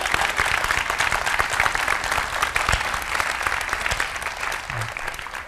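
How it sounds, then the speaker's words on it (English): Steady, dense audience applause at the close of a suicide intervention and prevention talk, even and moderately loud throughout with faint voices beneath. "And let's have some applause,"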